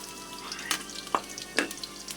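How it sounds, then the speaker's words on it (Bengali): Chopped onion frying in oil in a wok, a soft steady sizzle broken by a few sharp stirring clicks and pops, close and fairly quiet, with no talking. "হালকা করে পেঁয়াজটা ভেজে নিব"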